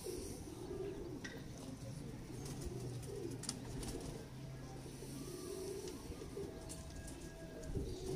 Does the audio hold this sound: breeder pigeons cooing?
yes